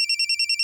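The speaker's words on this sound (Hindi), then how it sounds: "अरे फोन उठा लो ना, वरना बार बार यूं ही बजता रहेगा।" A telephone rings in a dramatic film scene, sounding as a rapid series of about seven short, bright, evenly spaced electronic trills, loud and clear with no other sound.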